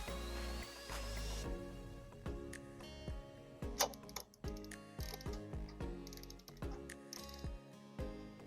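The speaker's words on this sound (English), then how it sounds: "And then we're going to use the flat screwdriver to screw it up." Clicking, ratcheting metallic turns as a flat screwdriver tightens the cap holding the float bowl on an engine carburetor, a close, irregular run of small ticks and clacks with no talking.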